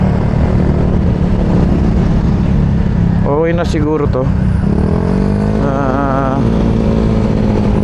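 A motorcycle with a noisy muffler drones loudly and steadily close by, with a brief rev in the middle, while someone talks over it.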